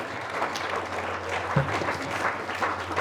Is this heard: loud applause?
yes